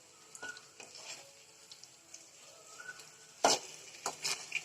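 Idli-flour snacks fry quietly in a pan while a utensil flips them, with soft sizzling, light scraping clicks and one sharper metallic clatter midway, no voices.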